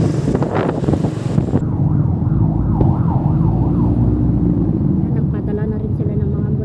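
Wailing ambulance sirens cycling steadily amid heavy traffic on EDSA near Guadalupe, loud and fairly close over a constant low road rumble, with wind buffeting the microphone at the start.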